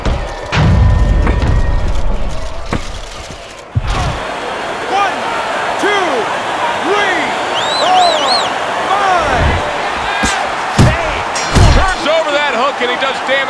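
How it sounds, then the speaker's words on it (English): Punches land in a Fight Night Champion boxing match between Ronald Wright and Roy Jones Jr.: loud thuds and slams hit irregularly over crowd noise while commentators talk through the whole stretch. "Roy Jones Jr. banged up by a left."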